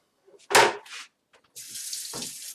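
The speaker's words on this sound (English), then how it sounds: "We're going to rinse up a couple of these apples real quick." Apples are rinsed under a running faucet at a rinsing station: a loud splashing burst, a pause, then a steady hissing stream of water with a brief splash partway through.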